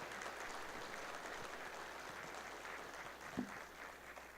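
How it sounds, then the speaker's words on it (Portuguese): Steady applause from an audience at a lecture on accessibility rights, greeting the speaker as he takes the stage. A dense, even wash of clapping holds for the whole stretch at moderate level, with no voices. "Aplausos para o nosso palestrante, querido amigo, Dr."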